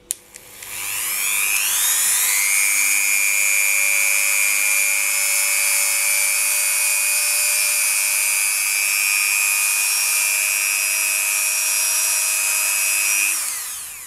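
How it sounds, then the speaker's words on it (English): Dremel 3000 rotary tool with a buffing wheel polishing polymer clay earrings, spinning up to a loud, steady high-pitched whine held for about eleven seconds, then winding down, close up. "I tend to use my Dremel 3000 with its buffing wheel"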